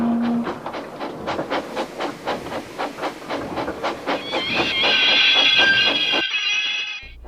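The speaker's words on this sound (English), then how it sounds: "he backed the train carefully to the first station" Steam locomotive from the Trainz TRS19 game chuffs in steady, rapid rhythmic beats, loud and close, with a whistle-like tone rising over the puffs before cutting off abruptly.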